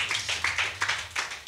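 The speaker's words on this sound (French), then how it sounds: "Est-ce qu'on peut acclamer pour elle et son mari?" Brief burst of a church congregation clapping in applause, a cluster of sharp, uneven claps close by, loud for a moment and then fading.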